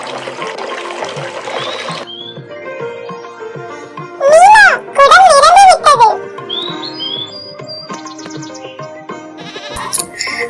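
A lamb bleats near a village water-fetching spot, two loud wavering cries in quick succession amid cartoon-style music and chirps.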